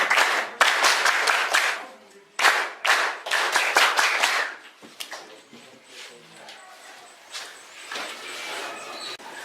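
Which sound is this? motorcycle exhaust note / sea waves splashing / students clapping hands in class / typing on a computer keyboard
students clapping hands in class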